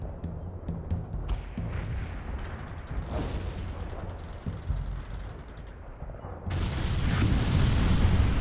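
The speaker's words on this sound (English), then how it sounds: "Artillery strike was on the mark." Artillery shells burst in the World in Conflict video game during a Russian invasion of Seattle, with rolling booms and rumbling blasts over a dense battle din that swells louder near the end.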